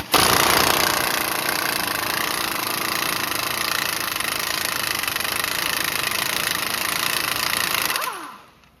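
A continuous, loud, dense mechanical rattle like an impact wrench runs steadily for about eight seconds and then stops, as a 32 mm rear axle nut is removed from a 2013 Chrysler 300 during a rear-wheel-drive axle replacement.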